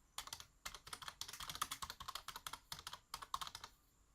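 Fast typing on a computer keyboard, a close, quiet run of crisp key clicks in irregular bursts with brief pauses between them.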